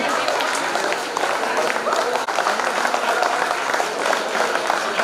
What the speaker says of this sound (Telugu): please clap